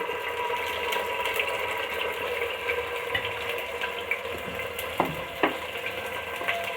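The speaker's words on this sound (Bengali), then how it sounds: "আদা রসুনটাকে একটু ভালোভাবে ভেজে নিব।" Ginger garlic paste fries in oil with a soft, steady sizzle, broken by a few light scrapes and clinks of stirring, all fairly quiet and close with no talk.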